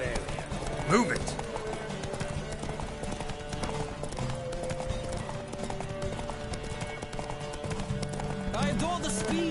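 Horses gallop in a race in the video game The Witcher 3: Wild Hunt, a dense, steady clip-clop of hooves at close range, with a neigh and characters talking over it.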